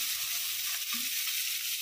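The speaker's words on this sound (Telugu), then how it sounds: "ఆనియన్స్ కొద్దిగా వేయించుకొని" Onions sizzle in hot oil in a pan, a steady close hiss with a brief soft stir, no talking.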